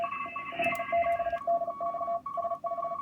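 Two CW radio signals heard through a 1K filter on a ham receiver, keyed Morse tones beeping in fast overlapping rhythms at two slightly different pitches over faint band hiss.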